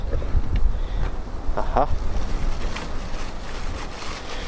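Strong outdoor wind buffets a microphone, a loud continuous low rumble with gusting swells, and a brief voiced interjection over it.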